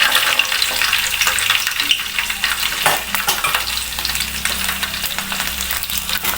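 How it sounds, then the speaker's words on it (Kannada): Cumin seeds and garlic sizzle in hot oil in a pan for coriander rice, a loud, steady crackling fry near at hand with occasional stirring scrapes. "ಎಣ್ಣೆ ಕಾದಿದೆ. ಈಗ 1 ಸ್ಪೂನಷ್ಟು ಜೀರಿಗೆ ಹಾಕೋಣ"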